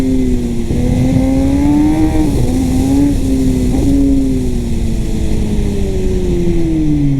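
A Kawasaki ZX-10R sport bike accelerates hard at speed, its engine note climbing through quick upshifts and then holding a loud, steady high-pitched wail, heard from on board with heavy wind rush.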